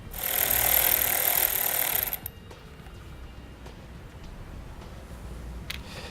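A ratchet wrench removing a 10mm nut from a 2009 Jeep battery post, heard as a loud close buzzing rattle for about two seconds, then quiet background with a faint click.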